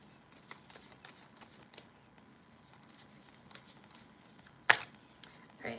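Tarot cards being shuffled by hand for a reading: soft, rapid papery riffles and taps repeat quietly throughout, ending in one sharper card snap near the end, with no talking.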